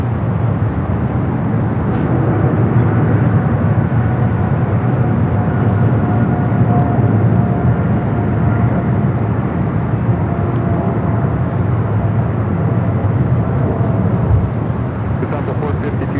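British Airways airliner rolling down runway 25 right at Los Angeles International Airport for takeoff, a steady, loud broadband jet roar that holds evenly throughout with no clear rise or fade.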